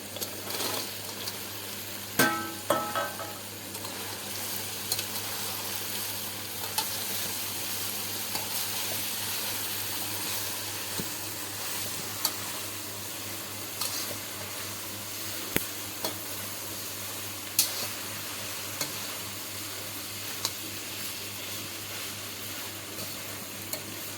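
Manchurian balls fry in hot oil at a farm, sizzling steadily and evenly throughout, with occasional stirring clinks and scrapes and no talking.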